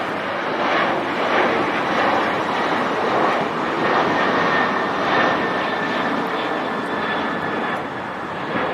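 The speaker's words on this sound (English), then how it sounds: "You can hear those CFM 56 engines working." An airliner with CFM56 jet engines climbs out on a steep departure, its loud roar steady and sustained throughout, with some wind buffeting the microphone.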